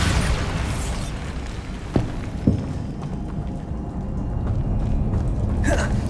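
A Bombarda spell explosion in the video game Hogwarts Legacy: two sharp, short bursts close together stand out over a dense, continuous bed of game ambience.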